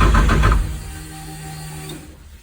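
Bosch 044 fuel pumps priming in a 700hp drift car that sat for three years, a loud rapid buzzing that eases into a steady, quieter whine with a faint tonal hum.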